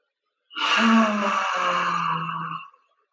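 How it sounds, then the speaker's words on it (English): A single long inhale through the nose during a gentle Kriya Yoga breathing exercise, loud and close, lasting about two seconds with a slight voiced tone and no talking. "Inhale through the nose."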